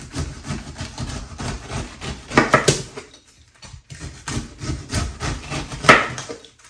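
A knife saws and trims through a fresh pineapple, a series of close, rough scraping and cutting strokes with short crunchy bursts and a brief quiet pause midway.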